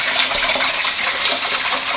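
Rice is rinsed under running water at a kitchen sink, a loud, steady gush of water splashing over the grains without pause, and nobody talks.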